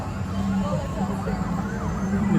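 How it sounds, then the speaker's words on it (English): Police and ambulance sirens wail at a distance outside Disneyland, their pitch rising and falling and mixed with a constant background hum and crowd noise. "Sounds like police cars and ambulances just on the outside perimeter of Galaxy's Edge."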